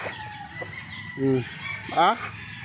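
A chicken clucks twice in short, rising bursts over a steady outdoor background hum.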